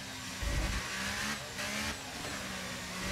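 An F1 race car in the F1 23 video game brakes and then revs, with a loud engine roar that rises and falls in short pulses over a constant rushing hum.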